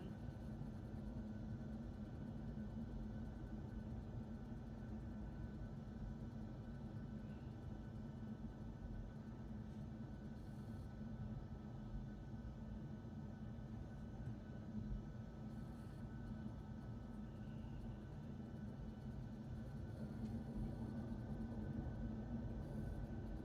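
A Boeing 737-800 taxiing out to the runway, heard as a continuous steady engine drone and broadband hiss from inside, fairly faint and unchanging, with no voices.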